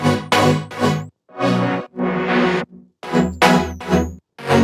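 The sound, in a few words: two layered wavetable synths played together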